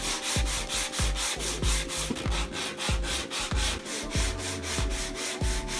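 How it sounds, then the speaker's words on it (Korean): Chiseled wooden parts of a joinery hair-dryer stand are sanded by hand with sandpaper in regular back-and-forth strokes, a rhythmic scratchy rasp repeating about twice per second, close and loud. "끌질이 모두 끝난 부재들은 사포질을 정성스럽게 해줍니다."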